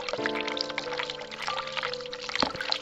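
Water running from a hot water tap in the horror adventure game The Cat Lady, a steady close pouring stream with a faint tonal hum underneath.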